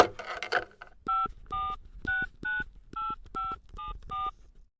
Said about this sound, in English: grabbed the phone and dialed the number of the office in Paris that made the bookings